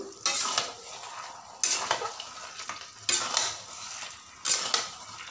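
A spoon stirs fried spice powder through a fish head and pumpkin ghonto in a metal pan, four bursts of scraping and clinking over a low sizzle, close and fairly quiet.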